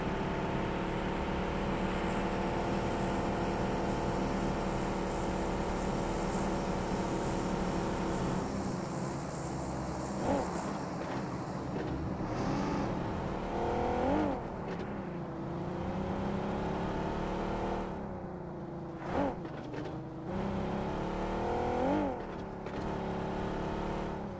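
A car drives across Erangel in PUBG, its engine droning continuously and rising and falling in pitch as it revs and shifts over rough ground.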